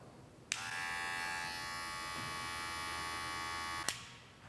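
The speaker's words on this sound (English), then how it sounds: "I will use my clipper close all the way to get rid of that initial trimmer line." A Wahl hair clipper runs steadily for about three seconds during a drop-fade haircut, a loud, close, even electric buzz that switches on and off sharply, with no talking.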